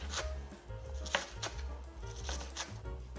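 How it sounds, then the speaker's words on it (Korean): A knife thinly shreds cabbage on a cutting board in a home kitchen, giving a quick series of soft, close, crisp cutting taps in an irregular rhythm. "양배추를 얇게 채 썰어 볼게요."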